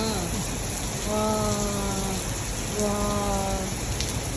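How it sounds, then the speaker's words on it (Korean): Heavy rain hisses loudly and steadily throughout while a voice nearby sings or hums two drawn-out tonal phrases over the downpour. "이거 비가 미쳤는데요"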